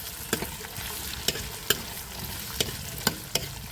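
Potatoes and capsicum frying in a pan give a steady sizzle, broken by sharp clicks of a spoon or spatula scraping and stirring at irregular intervals, loud and close with no talking.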